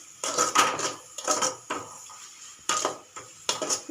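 Onion vada batter is mixed by hand in a metal bowl, giving a run of clinking, scraping strokes in quick bursts with short pauses between them, close and fairly soft.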